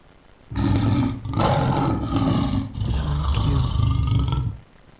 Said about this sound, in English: But the lion roar again, make we hear him.